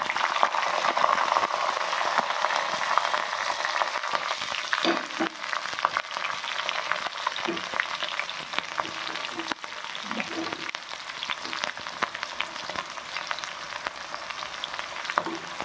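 Green chillies with mustard seeds and cumin fry in oil, a loud continuous sizzle with crackling pops that keeps up steadily throughout, close and without speech.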